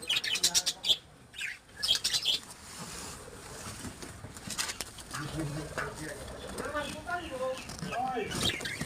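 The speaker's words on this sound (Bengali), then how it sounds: "এখানে কি পাখি আছে তিনু ভাই?" Birds at a deer farm give bursts of bright chirps and tweets close by, then people talk while softer calls continue in the background.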